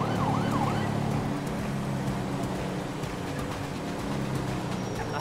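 A police car siren wails in the GTA 5 video game, a moderately loud rising-and-falling tone over a constant hum of engine and traffic noise.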